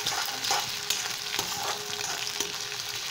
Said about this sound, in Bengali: আমি এটা তেলে ভাজবো